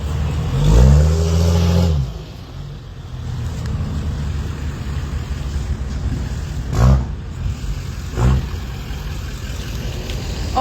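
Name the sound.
big truck driving through at farmers protest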